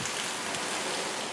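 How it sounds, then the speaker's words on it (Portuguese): Hail falling during a city storm, a dense, steady hiss of countless small impacts striking surfaces, loud and continuous throughout with no voices. "Chovendo granizo."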